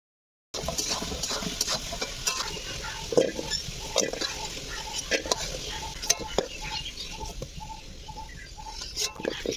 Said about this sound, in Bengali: কড়াই তেল দিয়ে কচুটাকে ভাজতে শুরু করলাম।